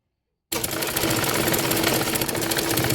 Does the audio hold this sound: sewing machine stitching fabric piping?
yes